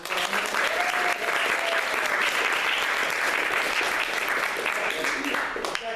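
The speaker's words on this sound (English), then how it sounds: "Let's have a big round of applause." Audience at an improv-group zero waste seminar applauding, a dense, sustained wash of many hands clapping close by for several seconds with no talk over it.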